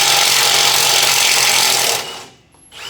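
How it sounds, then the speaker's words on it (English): Power tool rattle of an impact wrench working rusted bolts, loud and continuous for about two seconds before cutting off into near silence. "no, the impact will get it off."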